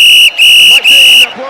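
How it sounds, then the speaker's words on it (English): A loud, piercing high whistle blasts three times in quick succession, each held briefly with short breaks between, close and dominant. "then came a mighty whistle"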